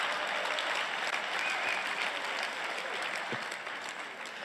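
A large crowd at a CPAC political conference claps in sustained, dense applause that stays loud throughout, fading slightly near the end.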